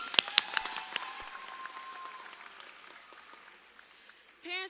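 A graduation audience gives a brief scattering of claps, a few sharp ones up front, then sparse applause that fades away, with a voice cutting in at the end.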